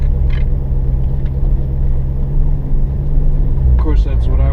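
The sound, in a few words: car driving around the neighborhood, GoPro window mount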